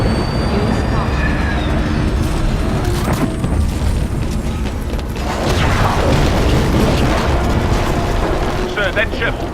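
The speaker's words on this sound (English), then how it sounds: "Blisk, charge the cannons. There's the target. Firing now." Heavy railgun cannons firing in the game Titanfall, a dense, continuous roar of booming blasts and rumbling mechanical noise, loud and sustained, with scattered high metallic flickers near the end.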